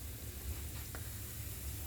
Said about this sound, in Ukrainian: Все, кипить квасолька, кипить капуста, жариться морквочка